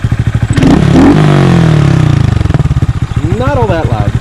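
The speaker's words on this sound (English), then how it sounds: "Do a couple little free revs." A motorcycle with its exhaust baffle fitted idles with a steady low thump, then gets two quick free revs that rise and fall, fairly loud and close, with a voice speaking over the idle near the end.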